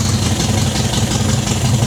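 An MGB's engine idles unevenly throughout, a steady low rumble ticking over with a slight roughness and a constant mechanical hiss, close and fairly loud with no voices.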